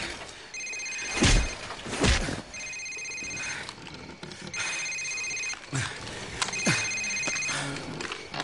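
A cell phone rings in Call of Duty 4: Modern Warfare, four trilling bursts spaced about two seconds apart, mixed with heavy thuds and impacts.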